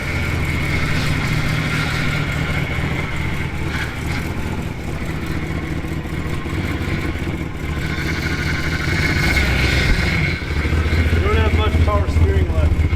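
A 53,000-mile survivor Dodge Diplomat drives a lap, its engine humming steadily under road noise while people talk over it throughout.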